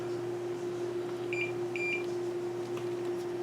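Multimeter continuity beeper sounding on Cherry keyboard PCB pins, two short high beeps in quick succession over a steady electrical hum.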